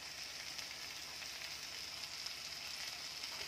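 Green peas sautéing in a hot pan with onion and capsicum, giving a steady, even sizzle close by with no voices.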